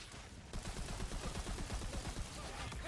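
Rapid automatic gunfire from the video game Tiny Tina's Wonderlands rattles in a dense burst of repeated shots, fairly quiet and continuous after a brief lead-in.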